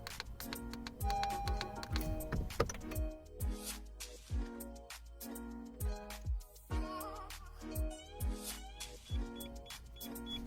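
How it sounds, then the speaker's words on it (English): A Starline i96 alarm fitted to a Civic Type R gives a series of short, evenly spaced bleeps while a phone is paired. They sound close and prominent over a low hum. "We'll get 7 bleeps."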